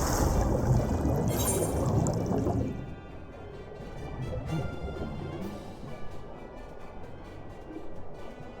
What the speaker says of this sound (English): I have to dive into the water.